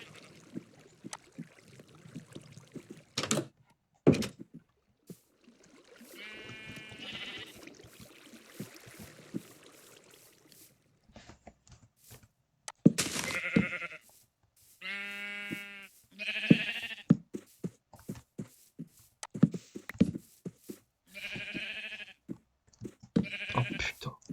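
Sheep bleat in the Minecraft video game, several short wavering bleats scattered between clicks and soft thumps of gameplay, fairly quiet and with gaps of near silence, no talk.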